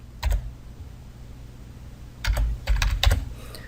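Two quick bursts of computer keyboard typing as a zip code is entered, crisp close key clacks separated by a pause, no talk.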